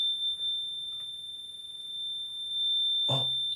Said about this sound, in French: Ça bip énormément ici.